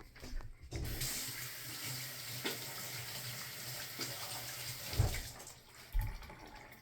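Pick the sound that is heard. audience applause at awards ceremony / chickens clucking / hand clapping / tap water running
tap water running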